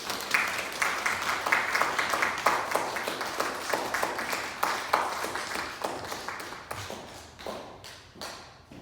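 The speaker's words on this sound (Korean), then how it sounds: "크게 박수로 환영하시겠습니다" Church congregation applauding to welcome a pastor before a sermon; many hands clap in a moderately loud, rhythmic patter for several seconds, thinning out and fading toward the end.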